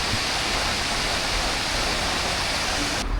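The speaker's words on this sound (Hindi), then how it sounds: "मेरे ख्याल में गेट खोल रहे हैं क्योंकि पानी का फ्लो बढ़ रहा है।" Water pours through an opened canal lock gate in Paris, a loud, steady rushing roar like a waterfall that fills the whole stretch without pause or voices.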